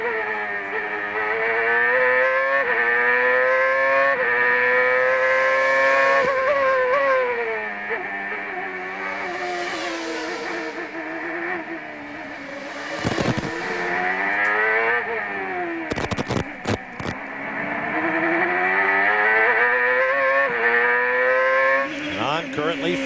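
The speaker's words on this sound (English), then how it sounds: "Tony Kanaan apparently on a hot lap through the visor cam." CART race car engine on a qualifying hot lap at Vancouver from an onboard visor camera, loud screaming revs rising and falling through gear changes and corners, with brief drops and a commentator talking over it.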